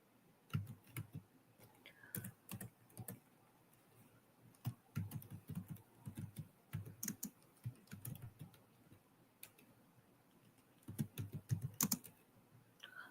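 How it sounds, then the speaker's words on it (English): Quiet, steady tapping and clicking of keys on a computer keyboard, in uneven runs with brief pauses, close by and alone. "I'm just typing and shit ain't going nowhere."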